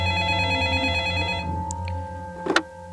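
A telephone rings in a security control room with a steady electronic tone that stops partway through, followed by a faint clatter as the handset is picked up.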